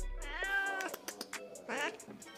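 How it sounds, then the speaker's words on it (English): Several cats meow in a cage, giving loud, clear, drawn-out calls and short broken cries in quick succession, close by, with little else around them. "Boy, you got a whole damn cage full of cats."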